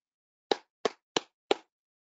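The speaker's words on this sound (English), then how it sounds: "Alto hand clap, which is palms together." Four alto hand claps, struck palms together, land close and evenly spaced, each a fuller, rounder smack with more body than a fingertip clap and a short fade.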